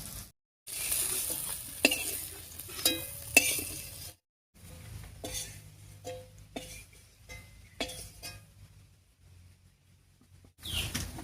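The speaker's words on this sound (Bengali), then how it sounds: "বেগুন ভাজা তেলের উপরে আরো একটু তেল দিয়ে দিয়েছি" Hot oil left in a pan after frying eggplant sizzles and crackles in bursts close by, with short clinks and stirring between quieter gaps.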